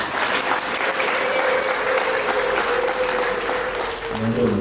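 Applause at a wedding ceremony, a sustained burst of clapping from a crowd lasting several seconds, loud and close, with a voice speaking over it near the end.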